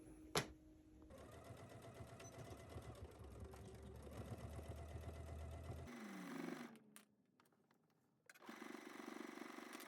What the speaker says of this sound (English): we're going to take this to our machine and sew through all thicknesses.